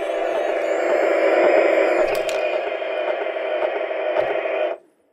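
Stylophone GEN X-1 electronic synthesizer playing a sustained, buzzy tone with bright harmonics, loud and steady for nearly five seconds before cutting off abruptly, with faint clicks over it.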